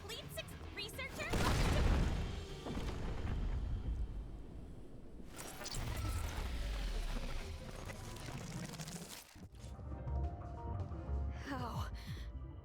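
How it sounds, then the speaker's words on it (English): An explosion in the Tower of Fantasy video game lands as a heavy boom with a deep rumble, followed by more crashing impacts and a sharp hit near the end, moderately loud amid game effects. "Where did this explosion come from?"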